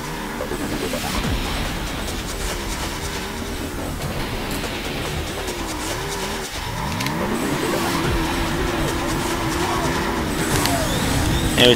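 A car launches off the line in a Burnout 2: Point of Impact race at Sunrise Valley Downtown Reverse, its engine revving and climbing steadily and loud, with rising pitch sweeps and continuous game music and effects throughout.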